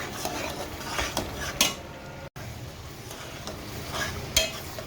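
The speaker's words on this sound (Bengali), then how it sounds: "ভালোভাবে কষাবো।" Spice paste with tomato sauce for a wedding-style shahi roast, stirred and sautéed in a pan, giving close, continuous sizzling with repeated scraping and clinking spatula strokes and no voices.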